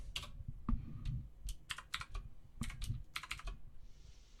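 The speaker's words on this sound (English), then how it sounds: "so I'll just type in some Python 3." Quick, light keystrokes on a computer keyboard while Python 3 code is typed, irregular clicks in short bursts, close and clear with no voice.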